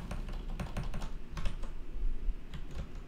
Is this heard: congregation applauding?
no